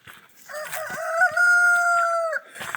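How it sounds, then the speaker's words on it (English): A homestead rooster gives one drawn-out cock-a-doodle-doo, fairly close and clear, with faint farm sounds before and after. "This guy here, he's a rooster."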